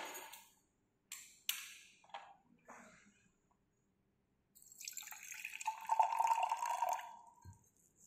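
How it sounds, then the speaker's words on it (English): Water trickles and splashes into a glass laboratory beaker holding oxalic acid, a soft pour after a few faint clinks and taps, fairly quiet and close with no voices. "and water will be added."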